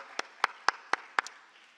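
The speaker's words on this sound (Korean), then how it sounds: "우리 하나님께 영광의 박수 올려드립니다" A few quiet, separate handclaps from a church congregation giving praise after the Lord's Prayer, about six sharp claps spaced evenly and then fading out, with no talking.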